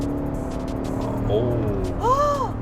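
A Cadillac Escalade with a 426-horsepower engine accelerating under full throttle, its low engine drone heard from inside the cabin beneath people talking excitedly.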